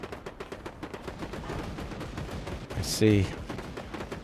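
Steady bursts of gunfire and bullet impacts in a video game, moderately loud and continuous, with a short spoken remark over the shooting.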